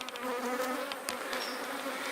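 Aggressive bees swarm around a large hive full of honey, making a dense, continuous buzz close by with occasional sharper passes of individual insects.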